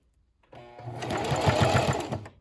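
A sewing machine stitches along the edge of a tutu, starting after a short silence and running steadily and close for about two seconds with a rapid, even needle rhythm.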